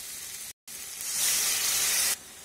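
Fried masala sizzles in a pan for an egg omelette curry, with a brief silent cut before water is added and the hiss rises to a louder, steamy spitting that holds steady and then drops back.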